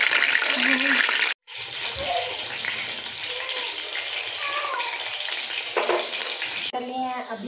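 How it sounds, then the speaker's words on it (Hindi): Food goes into hot ghee and fries with a loud, steady sizzle, broken by a brief gap and some stirring. Voices can be heard faintly in the background. "घी हमारा गर्म हो गया है, इसमें हम ये डाल देंगे आस्ता आस्ता।"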